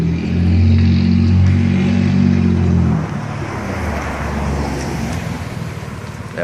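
Loud car driving by, a heavy engine roar rising close then fading into broader road and traffic noise as it passes.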